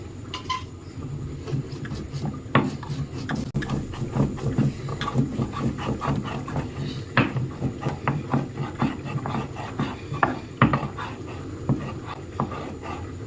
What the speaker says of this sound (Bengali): গরম মশলাটা বেটে নেব হালকা একটু জল নিয়ে নেব